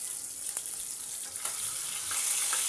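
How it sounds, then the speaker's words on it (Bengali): Rohu fish pieces frying in a pan with okra, a soft continuous sizzle with a few faint clicks from turning the fish, close but low in level. "আমার মাছগুলা ভাজা হয়ে যেতেছে"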